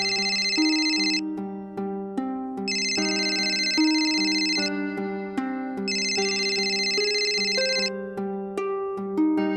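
A telephone rings with a loud electronic ringtone, a bright repeating melody that plays in phrases with short gaps and carries on throughout, with no talking.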